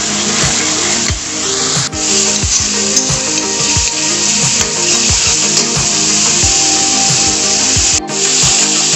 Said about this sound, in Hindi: तो हिला हिला के भूनते रहिए धीमी आंच के ऊपर